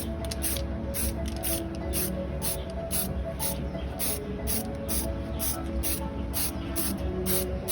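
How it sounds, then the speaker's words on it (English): A spray can sprays in short repeated bursts of hiss during a bit of DIY work, about a dozen quick pulses at close range over a steady low background rumble. "you've got to kind of catch the bit that you're doing in the middle, because that's where you get the smoothest consistent spray"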